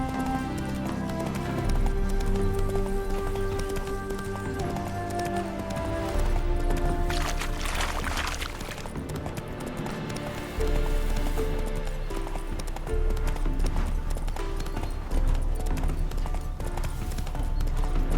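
Steady clip-clop of a galloping horse in The Witcher 3: Hearts of Stone runs throughout, rhythmic and close, over a music score with a brief whinny-like sweep midway.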